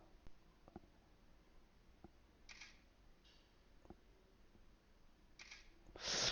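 A smartphone camera (iOcean The Rock) takes a photo without flash, giving a short crisp shutter click near the end after faint ticks and soft rustles in a quiet room.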